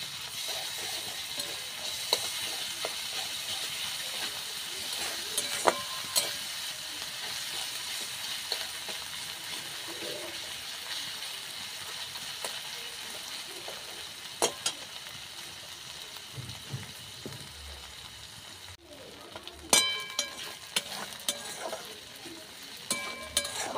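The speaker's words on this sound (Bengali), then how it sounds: "পেঁয়াজ বাটাটা দিয়ে দেব।" Onion paste frying in oil in a pan while being stirred, a continuous bright sizzle with scattered crackles and spoon scrapes, a short dip near the end before the sizzling picks back up.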